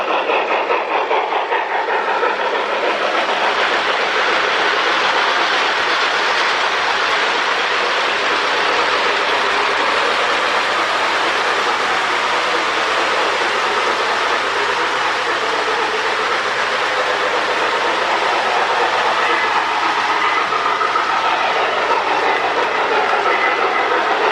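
Lionel 675 model steam locomotive with a rebuilt smoke unit runs steadily on its track, giving a continuous rolling rumble with faint rail clatter throughout and no voices.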